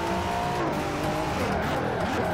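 A V6 race car in the Forza video game roars continuously at high revs with tire noise, a steady engine drone filling the whole moment without voices.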